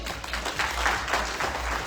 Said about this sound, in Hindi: यस, तो मैडम के दो तालियां